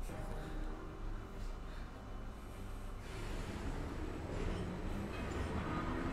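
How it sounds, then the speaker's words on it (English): Trains rumble along tracks in the Valkyria Chronicles 4 strategy game, a steady heavy rolling and clanking drone that swells slightly as wagons pass, with faint game ambience beneath. "Oh, and the trains just fuck off."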